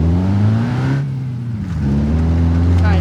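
A diesel-engined Cherrier Tograc car in the BeamNG.Drive video game revs loudly and close, its engine pitch climbing, dropping briefly as it lets off, then rising again in a steady drone.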